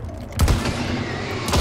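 Gunfire from old-style weapons in Hunt: Showdown, a pair of heavy booming shots about a second apart, loud and close over a noisy background rumble.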